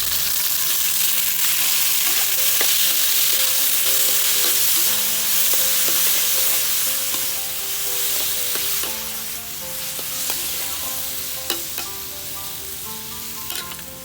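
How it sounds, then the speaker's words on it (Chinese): Tomatoes for a Thai-style cabbage roll sauce are stir-fried in a pan after the base has browned golden, with a steady loud sizzle and the occasional scrape and clink of a utensil. "炒到这种金黄色，就放入我们的番茄，"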